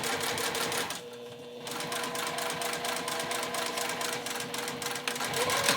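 A sewing machine bastes down a fabric edge while sewing a heart shape, with a fast, steady mechanical chatter that pauses briefly near the start and then carries on, close and moderately loud.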